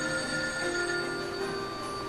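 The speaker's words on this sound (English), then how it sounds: "I hear a phone ringing." A telephone rings steadily in the video game Lightning Returns: Final Fantasy XIII, a quiet sustained electronic tone held alone without any talk.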